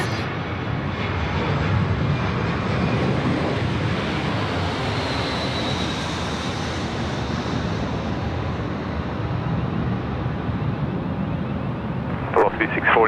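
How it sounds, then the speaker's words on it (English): An Airbus A320 passing low overhead near a Sydney airport runway, a loud, broad engine roar that swells and fades slowly over many seconds, with wind buffeting the microphone and a brief voice near the end. "Another 320 coming over our heads."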